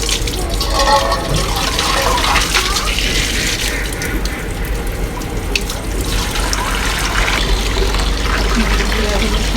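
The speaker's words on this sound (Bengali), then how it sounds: "এ কারণে আমি সব সময় জিরা ধুয়ে নিচের কণাগুলো ফেলে দিই।" Cumin seeds washed under running water at a kitchen sink, a continuous close splashing trickle with a low steady hum beneath.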